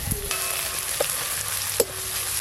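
Chopped onions frying in oil in a pan, a close, steady sizzle and crackle with a few brief clinks of stirring standing out over the hiss.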